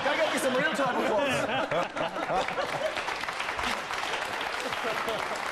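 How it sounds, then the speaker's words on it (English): A television studio audience claps loudly and steadily, with scattered chuckles and laughter mixed into the dense applause and a brief dip partway through. "Can I get you some real time applause?"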